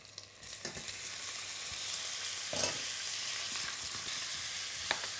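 Carrots and onions sautéing gently over low heat for a veal blanquette, a steady soft sizzle with occasional stirring scrapes throughout, no voices.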